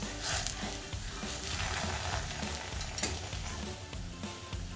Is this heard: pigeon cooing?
no